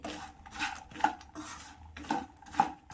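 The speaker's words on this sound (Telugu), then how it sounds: "మనము పూల్ మక్కలాన్ని దీంట్లోకి వేసుకోవాలి వేసుకొని ఒక టూ మినిట్స్ పాటు ఇలా అంతా ఫ్రై చేసుకోవాలి" Puffed lotus seeds (phool makhana) fried and stirred with masala in a pan for a chaat, giving a steady run of light metallic scrapes and clinks from a spoon against the pan, with a few sharper knocks.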